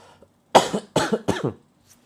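Three harsh coughs in quick succession, close and fairly loud, followed by silence.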